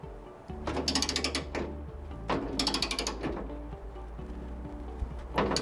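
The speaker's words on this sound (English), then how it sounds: "you will need to tighten the VISI-TITE nut until the outer head breaks off and the red disc falls" A ratchet tightening a VISI-TITE bolt nut on the cross bus of a Schneider EZM electrical panel, heard as close, crisp bursts of rapid clicking in several separate strokes with short pauses between them.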